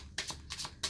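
Tarot cards being shuffled close by, three quick papery riffling bursts with short pauses between them, fairly quiet.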